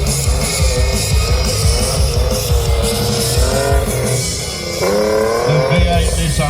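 A loud 3.5-litre race car engine at a drag racing event revs hard and steadily, its pitch climbing and dipping with shifts, close and continuous throughout.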